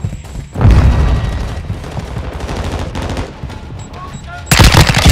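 Call of Duty: Modern Warfare II combat with loud bursts of automatic gunfire close by, heavy booms and a sharp blast near the end, over game radio chatter.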